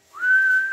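A single steady whistle into a radio microphone on an FT757GX transceiver, a clean sustained tone that rises briefly at the start and then holds level for under a second.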